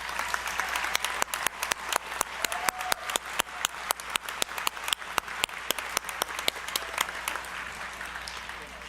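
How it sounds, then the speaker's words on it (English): An audience applauds at a college autumn commencement ceremony, honouring the campus and community helpers. The clapping is brisk and distinct, with individual claps standing out sharply, and it stays fairly steady throughout. "Let's give them all a round of applause"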